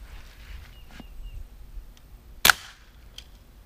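A single sharp crack of an air gun firing a steel BB at a Crosman target stands out briefly and close against a quiet background.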